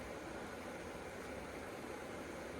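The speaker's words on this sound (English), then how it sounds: "water's boiling, turn that off." Water boiling on a camping stove gives a steady, close hiss and roar with no clear breaks, and no one speaks.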